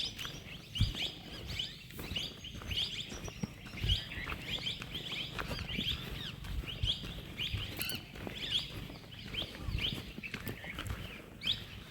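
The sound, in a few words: birds chirping in forest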